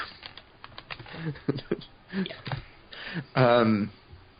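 Typing on a computer keyboard patters in quick light taps beneath a conversation, with voices carrying most of the sound.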